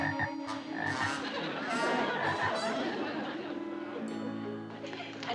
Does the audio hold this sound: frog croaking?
yes